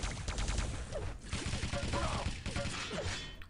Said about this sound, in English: even goes for the MG spam there